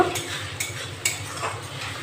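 Ginger paste with garlic and spices fries in a pan, a soft sizzle broken by three sharp spoon scrapes and clinks as it is stirred, up close with no talking.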